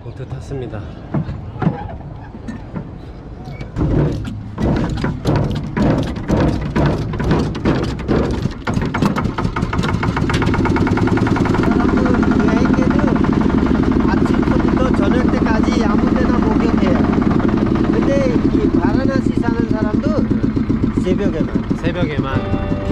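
A motorboat engine on the Ganges river at Varanasi starts with a series of sputtering pulls, then settles into a loud, steady droning hum close by, with voices talking over it.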